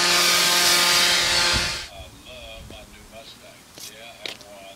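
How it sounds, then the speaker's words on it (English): A Black and Decker battery leaf blower whirring loudly at close range for almost two seconds before cutting off, followed by quieter background sounds. "we use a Black and Decker blower."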